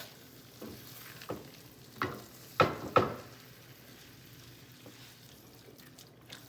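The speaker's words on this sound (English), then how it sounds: "And then to that we want to add our cauliflower. And we want to mix that around real well." Cauliflower stirred into shrimp Alfredo sauce in a pan, with several soft scraping strokes at uneven intervals over a low, quiet simmer.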